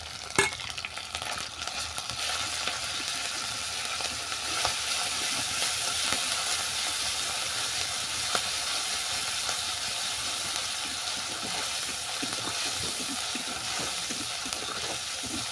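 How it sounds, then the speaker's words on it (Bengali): Onion paste sizzles and fries with ginger and garlic in a pan, a continuous close hiss with occasional stirring scrapes and no voices. "আদা রসুনের কাঁচা গন্ধ চলে যাওয়ার পর দিয়ে দিলাম পেঁয়াজ বাটা।"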